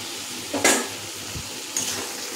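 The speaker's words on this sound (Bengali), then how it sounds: "এবার দিয়ে দেবো সিদ্ধ করে রাখা আলুগুলো।" Boiled potatoes go into a pan of cooked spiced masala and are stirred, giving a soft steady sizzle with a couple of brief scraping clinks, close and moderately loud.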